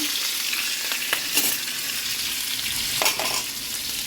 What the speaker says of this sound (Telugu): పల్లీలు ఫ్రై కావాలి పచ్చిమిర్చి కూడా ఫ్రై కావాలి